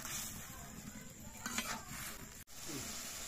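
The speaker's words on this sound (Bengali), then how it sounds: "প্রায় আলু ভাজাটা হয়ে গেছে, আমি এখন নামিয়ে নিব" Potatoes frying in a pan, a steady moderate sizzle with a little stirring, cutting out briefly near the end before the frying noise resumes.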